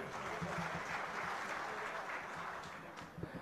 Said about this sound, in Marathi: जोरदार टाळ्या वाजल्या पाहिजेत